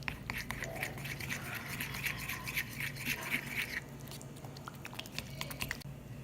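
Whipping cream being mixed with Nutella chocolate in a bowl, heard as a fast, steady whisking or stirring scrape with a rapid rhythm, close and fairly quiet over a low background hum.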